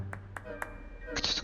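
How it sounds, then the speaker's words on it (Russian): A single person claps slowly three times in a classroom scene in Hogwarts Legacy, making sparse, distinct claps over quiet ambience, followed by a brighter chime near the end. "Кто-то один там хлопает."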